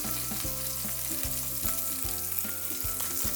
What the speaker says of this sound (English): I'm gonna take it and just flip it over.